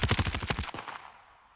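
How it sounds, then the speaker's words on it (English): A rapid burst of automatic gunfire from the Modern Warfare video game, heavily sidechain-compressed, fires close and loud for about half a second, then cuts to a squashed, fading tail. "you hear how the gunshot at the end there gets really compressed"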